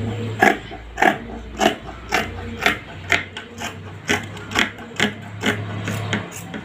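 Scissors cut through fabric for a chudidar top in a steady rhythm of about a dozen evenly spaced crisp snips, close and fairly loud, with no talking.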